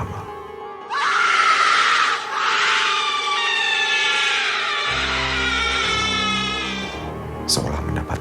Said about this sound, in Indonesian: terdengar teriakan perempuan